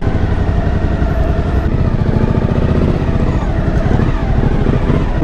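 A loud motorcycle engine with an aftermarket exhaust rumbles steadily at close range with a deep, throaty exhaust, and wind buffets the microphone.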